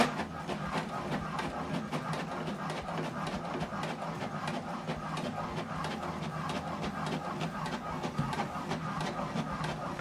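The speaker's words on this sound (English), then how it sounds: "So this document now is printing." An HP Deskjet printer runs a print job, giving a steady mechanical whir with fine rapid clicks and ticks from the paper feed and print head. It sounds close and moderate in level, with no talk over it.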